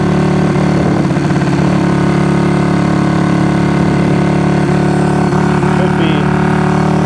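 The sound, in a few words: Honda CB200T motorcycle engine running on one cylinder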